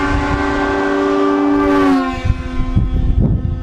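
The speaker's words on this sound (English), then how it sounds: "We also installed this beast, which is the same type of horn system used on trains and semi-trucks" A train-style air horn fitted to a car, fed by a compressor and a 120 psi air tank, gives one loud sustained chord-like blast that sags slightly in pitch before cutting off, followed by a few brief knocks and clatter.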